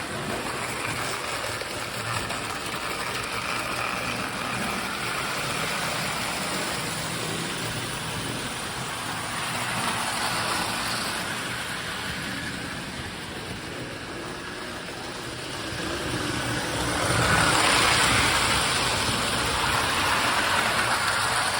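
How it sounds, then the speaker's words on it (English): A Marx toy train runs steadily along its track, a continuous whirring, rattling motor drone that swells louder near the end as it passes close by. "It is hard to slow a Marx train down."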